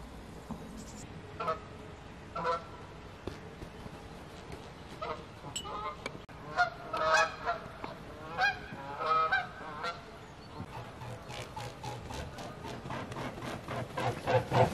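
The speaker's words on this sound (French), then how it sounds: "Mais je sais pas pourquoi tout d'un coup il y a toutes les oies, les cygnes" Geese and swans gather on water near a floating lodge, honking in repeated clustered calls at moderate distance that grow busier toward the end, with a person's voice occasionally heard over them.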